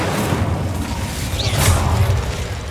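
A fire spell cast in Hogwarts Legacy: a loud, dense roaring whoosh of flame with a swelling burst partway through, filling the whole moment with no voice over it.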